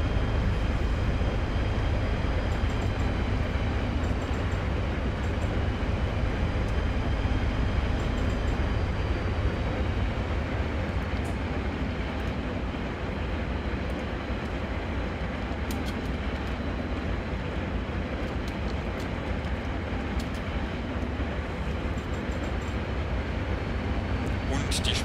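A class 218 diesel locomotive in Train Simulator 2014 runs with a steady, loud low rumble and engine drone that holds throughout, with faint higher mechanical tones above it.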